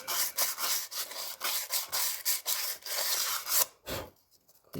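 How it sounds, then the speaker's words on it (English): Sandpaper scuffs back and forth inside the wheel hub of a 2012 Polaris Sportsman 850, a rapid, close, gritty rubbing in short strokes that stops near the end. "I usually like taking a bit of sandpaper now and just scuffing it up on the inside"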